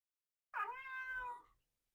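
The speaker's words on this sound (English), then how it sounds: "That's my cat that has decided she wants to talk to everybody." A pet cat gives one clear, drawn-out meow, close and alone in an otherwise quiet room, rising then fading over about a second.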